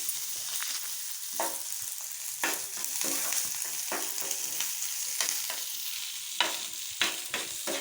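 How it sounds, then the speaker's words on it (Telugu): Cumin, curry leaves, green chilies and chopped onion sizzle in a hot pan, a steady frying crackle broken by repeated scrapes and clinks of a stirring spoon close by. "జీలకర్ర కరివేపాకు పచ్చిమిర్చి ఆనియన్ కట్ చేసుకున్న ఆనియన్ కలుపుకోవాలి"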